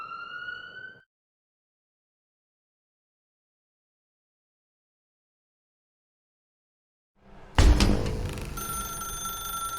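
A telephone in The Stanley Parable video game gives a brief ring, then silence for several seconds before a sudden loud burst of ringing resumes with a sharp onset and sustains to the end.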